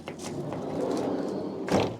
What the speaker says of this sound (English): Huge size sliding door.